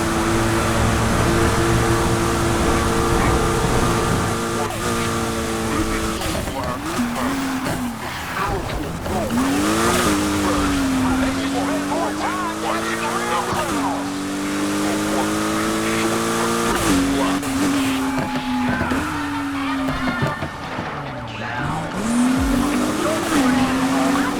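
Car chase in the video game Need for Speed Heat: loud racing engines rev and shift continuously, with tires squealing through turns, while voices talk over the action throughout.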